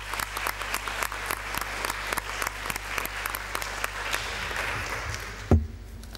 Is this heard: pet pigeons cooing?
no